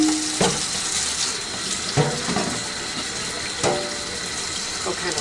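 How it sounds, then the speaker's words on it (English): A running kitchen tap splashes steadily while something is rinsed under it, with the water stream shifting in a few soft surges and light handling knocks in between. "We'll kind of rinse that off."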